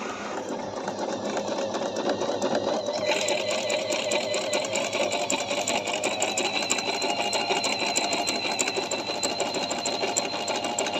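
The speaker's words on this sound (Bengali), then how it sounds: "আমি এখন সিলাবো এই সেলাইটা এই যে গণ জিগজাক" A Singer 1408 digital sewing machine stitches a zigzag pattern, a steady close mechanical whir with rapid needle chatter that lifts in pitch and intensity after a few seconds and runs continuously to the end, no voices.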